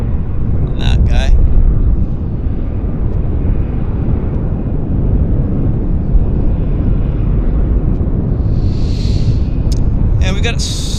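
A passenger airliner lands at Vancouver International Airport, a steady broadband roar of engines and rushing air filling the whole stretch, with a couple of faint high squeaks near the start and end.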